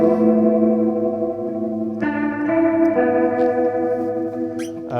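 Electric guitar through a Hughes and Kettner Rotosphere Leslie-style rotary effect, sustained chords with a swirling, warbling shimmer, changing at about two and three seconds, loud and close.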